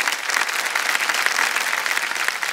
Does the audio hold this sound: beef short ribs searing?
no